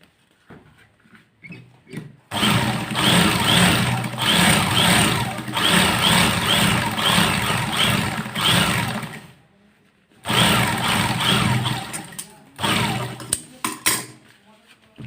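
A sewing machine stitches the collar of a kallidar Punjabi in two long, steady motor runs separated by a short pause, then a few brief stuttering bursts, loud and close.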